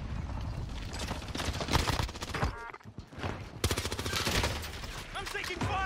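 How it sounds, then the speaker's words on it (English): Rapid bursts of automatic gunfire from a Call of Duty match on Rebirth Island, dense repeated volleys close by, with players talking over the shooting. "I'm taking fire."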